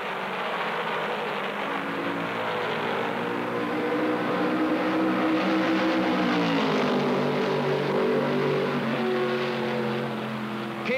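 Ford stock cars roaring past at full throttle at the 1968 Southern 500, a loud sustained engine drone with shifting pitch as the cars race close together, no voices.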